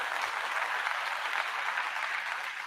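A crowd applause sound effect plays as a steady, dense wash of clapping and cheering from a large audience, alone and evenly loud throughout.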